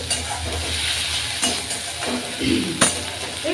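Leafy greens curry with garlic and ginger is stir-fried in a pan. A continuous sizzle runs under occasional scraping and stirring knocks of a utensil against the pan.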